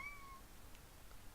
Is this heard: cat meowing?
yes